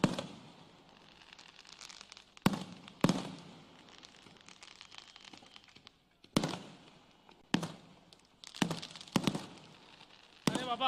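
Firecrackers burst at an outdoor BJP political rally in Anganewadi: a run of sharp, loud cracks comes in irregular clusters over steady crowd murmur, with several quick bangs close together near the end.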